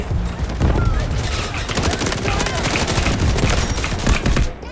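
Submachine gun fire in Delta Force, a loud, relentless stream of rapid shots with overlapping bursts from several weapons, filling the whole stretch with only brief dips.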